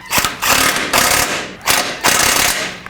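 Tightening the mounting nuts on a Volvo V70 engine mount subframe with a ratchet, loud close bursts of rapid clicking in three runs separated by short pauses.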